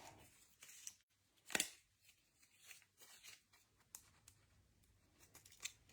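Scissors snipping through paper or card for a scrapbook layout, a few quiet, close crisp cuts with one sharper snip, surrounded by soft rustling and handling noises.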